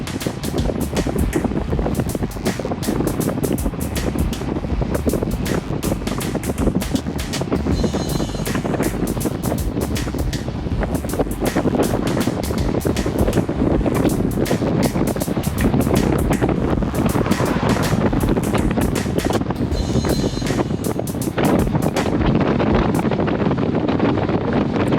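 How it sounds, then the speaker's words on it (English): Strong wind roars steadily past a cyclist riding at speed on the road, a loud continuous buffeting rush that stays constant throughout with no one speaking. "Listen to that wind."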